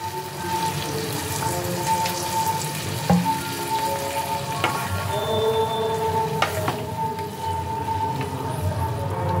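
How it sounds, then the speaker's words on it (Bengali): Water poured into chilli prawns frying in a pan, giving a steady, close sizzle and bubbling that holds throughout, with a few clinks and scrapes from stirring and no voices. "এবার আমি এর মধ্যে অ্যাড করছি সামান্য জল।"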